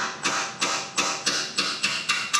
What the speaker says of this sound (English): I'm gonna see if I can get that jam nut busted loose. Grab a hammer.